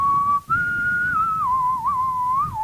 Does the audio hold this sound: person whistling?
yes